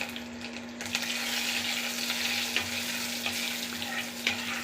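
Curry leaves and a dried red chili frying in hot oil as a tempering for jackfruit sambar, giving a steady close sizzle and crackle with small stirring scrapes throughout, no voices.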